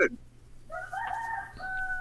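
A rooster crows once in a long, wavering cock-a-doodle-doo, clear and moderately close, rising and holding before trailing off over a low steady background hum.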